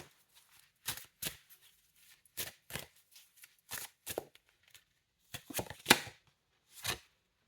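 Tarot cards are shuffled in short, quiet riffling bursts that come irregularly, close by and with gaps of near silence between them.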